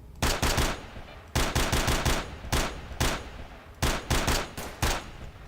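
Rapid bursts of automatic gunfire from the video game STALKER: Shadow of Chernobyl, loud clustered volleys of shots separated by brief pauses, repeating across the whole stretch.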